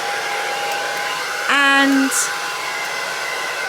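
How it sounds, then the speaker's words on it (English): A hairdryer in a new hotel room gives a steady high whirring hum throughout, with a brief louder tonal surge in the middle; a voice speaks briefly. "Yeah, hairdryer works."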